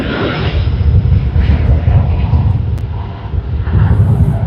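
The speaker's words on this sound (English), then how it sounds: "A330-900 to Kuala Lumpur. Landing gear up." A Malaysia Airlines Airbus A330-900 climbs out after takeoff from Sydney Airport, a loud, fluctuating low engine rumble that swells and dips without talk.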